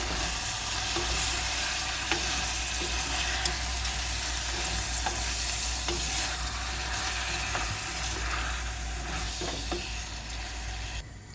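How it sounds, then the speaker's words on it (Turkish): Frozen peas sautéed with browned tomato paste for a minced-meat pea stew, a steady loud sizzle filling the pan with scattered scrapes and clicks of stirring throughout, no voices. "buzluktan çıkarmış olduğum bezelyeleri. Kavuralım şöyle biraz."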